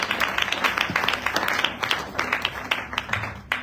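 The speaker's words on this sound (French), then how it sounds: "On peut applaudir pour la gloire du Seigneur." A church congregation claps during a Sunday service, a moderate crowd of hands beating in quick, somewhat uneven bursts that keep going throughout, fairly close and clear.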